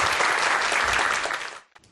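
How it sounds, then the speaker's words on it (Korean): Studio audience applauding to welcome a speaker at a science and IT lecture, loud dense clapping that holds steady and then drops off abruptly, leaving a few stray claps. "여러분들 큰 박수로 강연 청해드리도록 하겠습니다"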